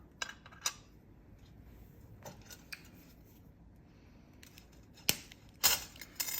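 Wire cutters snip through craft wire for wrapping a crystal, a few sharp, close metallic clicks spread out over a quiet background, with one louder pair of snips near the end.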